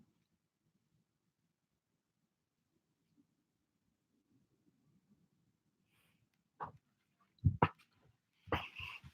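A dog indoors gives a few short, sharp barks and yelping whimpers near the end after a long stretch of near silence, close and moderately loud.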